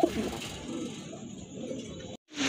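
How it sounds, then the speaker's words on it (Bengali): Black Dauka pigeons cooing in a market pen, soft low coos repeating steadily for a couple of seconds amid a busy background, with a brief silent gap near the end before the sound resumes. "ব্ল্যাক ডাউকা কবুতর, মাশাআল্লাহ খুব সুন্দর"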